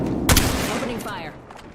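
Gunfire in the battle royale video game Apex Legends, with a loud burst of shots near the start followed by fainter shots and game effects, mixed with in-game voice lines.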